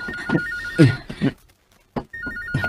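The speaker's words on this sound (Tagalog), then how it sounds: "Ang telepono." A telephone ringing in short repeated electronic trills, with people talking between and over the rings.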